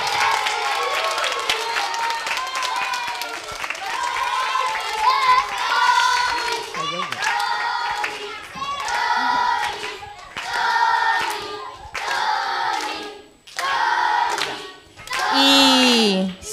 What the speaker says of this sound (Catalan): un aplaudiment pel Toni que ha estat amb vosaltres